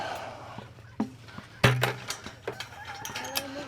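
Goats bleat at a farm gate, a few separate calls at close to moderate distance, one sharper cry partway through, with faint rustling and bird-like chirps around them.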